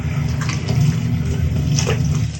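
Water pours into a Fujidenzo JWA 6000 washing machine running a wash-only cycle, producing a steady, close gushing and splashing over a low, constant rumble.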